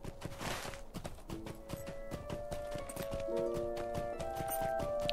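Hooves of a goat mount drum at a run in Lord of the Rings Online, a steady rapid clatter over game music with sustained tones.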